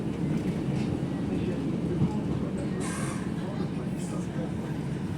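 A UK passenger train pulls into Manchester Victoria station with a faint, steady low rumble and rattle of carriages, heard quietly and without a break.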